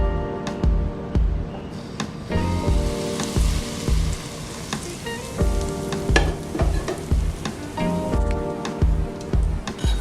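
Hot cooking oil, about 70 ml, is poured over curry powder and sizzles loudly in close, crackling bursts with a few spoon clinks, over a faint musical backdrop.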